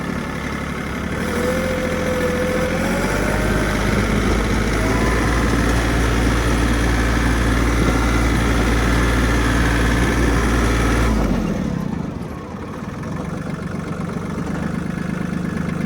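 A Mitsubishi MTR-300 mini tractor's engine runs loud and close, a steady droning rumble with a rising whine, then drops abruptly to a lower idle-like hum near the end.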